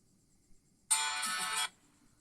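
A short, bright electronic Nokia phone ringtone, from a Nokia C7-00, plays once for under a second, clear and close against near silence.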